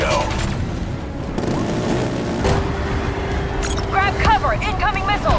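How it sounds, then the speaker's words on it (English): Missiles launching and exploding in Black Ops III, a loud burst of booms and gunfire-like blasts with sweeping whistles, while voices talk over the chaos. "Mothership's launching missiles"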